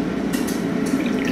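Water pours into a drinking glass at close range, a steady liquid fill with a few brighter splashy bursts and no talking, measured out as two cups that just fit the glass.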